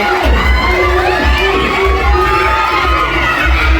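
A big crowd at a school sports day cheers continuously, children's shouts and whoops layered over rhythmic drumbeats, loud and steady throughout.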